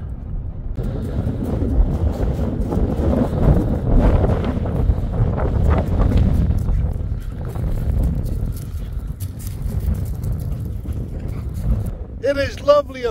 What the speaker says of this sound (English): It is lovely up here, but bloody hell, it's windy.